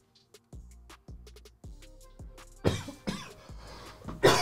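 A person coughs after smoking Bonche Salami tobacco: a series of short, dry coughs in quick succession, then several louder, harsher hacking coughs toward the end, heard up close.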